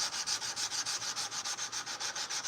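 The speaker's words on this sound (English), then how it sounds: "the great thing about this wrought iron is it hand sands beautifully" A wrought iron blade is hand sanded with steady back-and-forth strokes, a rhythmic, close scratchy rasp repeating about five times per second with no voices.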